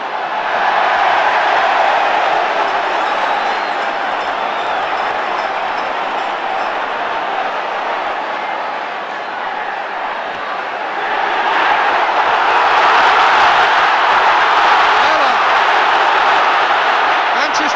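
Huge football crowd roaring at a Manchester derby between City and United, a steady loud wash of massed voices that dips briefly and then surges louder again toward the end.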